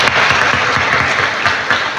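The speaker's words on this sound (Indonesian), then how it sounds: "Mohon berikan tepuk tangan." Sustained applause from a graduation ceremony audience, a dense crowd clapping steadily and loudly for about two seconds without pause.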